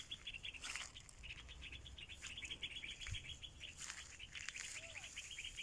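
Birds chirp and trill near a mountain cave in open country, with rapid repeated high notes in several bursts over faint wind and rustling, fairly distant and soft throughout.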